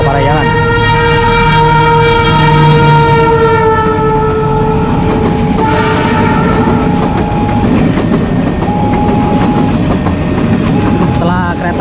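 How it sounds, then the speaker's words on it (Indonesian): Argo Parahyangan passenger train passing close and loud, with long sustained horn tones and steady rumble and clatter of railcars throughout, fading slightly toward the end with more horn blasts. "Setelah kereta api Argo Parahyangan ini melintas"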